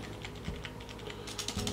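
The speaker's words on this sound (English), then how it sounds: "the enter key, which is a larger one, does seem to have more of a springy sound" Keys tapping on a Sandberg USB wired numeric keypad, a quick irregular run of close, light clicks with a few heavier, springier presses near the end, no voices.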